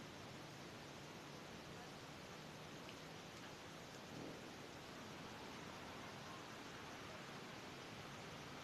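Heavy rain pours in a dense, continuous roar, steady and unbroken, with a faint low rumble briefly rising partway through.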